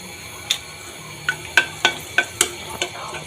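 Dried red chillies dropped into hot oil in a kadai give a soft continuous sizzle with a series of sharp crackles and pops at irregular intervals, close and fairly quiet, with no talking.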